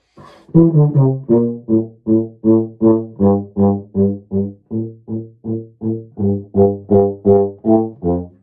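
A tuba plays a steady, detached melody of about twenty separate notes, each tongued distinctly, unaccompanied and fairly close.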